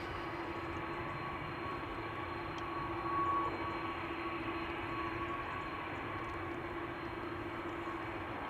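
Transavia airliner departing Amsterdam Schiphol Airport on a flight to Malaga, a steady distant jet roar that holds evenly throughout with a slight swell near the middle.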